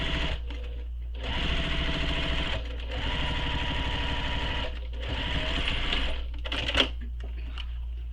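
A sewing machine stitches a backpack, running in steady bursts of rapid mechanical whirring with brief stops between them, close by and with no voices.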